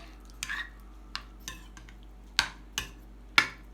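Bulgur and water stirred in a bowl with a utensil produce a handful of separate clinks and scrapes against the bowl, spaced unevenly over a quiet background, with no talk.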